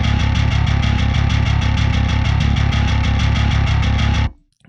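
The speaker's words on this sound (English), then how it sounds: "it's the default Eurobass distortion sound." Heavily distorted guitars in a metal mix using the default Eurobass distortion sound, dense and loud with a fast pulsing rhythm, sustained for about four seconds before cutting off abruptly.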